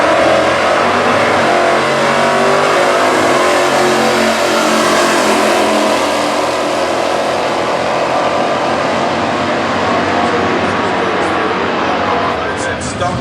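Stock Eliminator drag cars with a 455 cubic inch engine and 4-speed run hard, a loud sustained engine roar climbing in pitch across the pass while an announcer talks over it.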